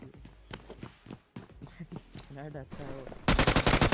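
Gunfire in PUBG Mobile Lite: scattered shots and footsteps at first, then a loud, rapid machine-gun burst close by at the end, with a voice talking over part of it.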